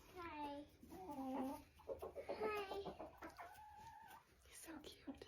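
Chickens cluck and call in short repeated bursts close by, a sitting hen among them, with soft background noise between calls.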